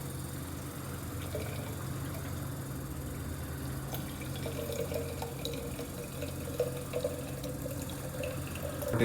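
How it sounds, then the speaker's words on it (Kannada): Tap water runs steadily and softly as it is collected into a container during a water demonstration, a continuous faint splashing stream with no talking. "ಸೊ ಈಗ ನೀರು ಹಿಡಿತಾ ಇದ್ದೀವಿ ನಾವು ಫ್ರೆಶ್ ಆಗಿ."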